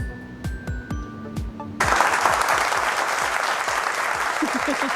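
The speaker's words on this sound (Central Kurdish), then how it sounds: "زۆرم حەز لە چەپڵەکە کرێتان بڵێم دووبارە چەپڵە" An audience claps loudly in a broad, steady wash of applause that starts suddenly and carries on to the end, preceded by brief background music with a thudding beat.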